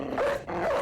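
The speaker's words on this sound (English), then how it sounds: "I'm gonna release my dog." A single dog in Battle Brothers gives a short two-part bark or growl, close and fairly quiet, lasting under a second.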